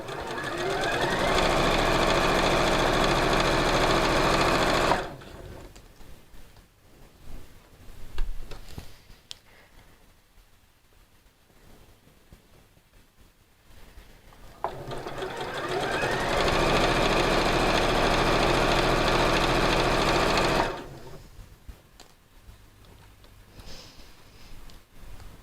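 Domestic sewing machine stitching a lightweight fabric flounce, running in two steady bursts of about five seconds each, separated by quieter handling sounds.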